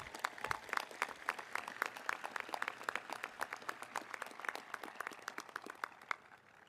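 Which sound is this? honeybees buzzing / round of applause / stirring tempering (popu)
round of applause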